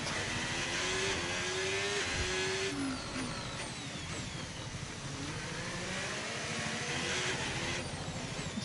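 Formula 1 race car engine in a video game, a high-pitched whining roar rising and falling through gear changes, continuous and loud with pitch sweeps up and down as the car accelerates and slows.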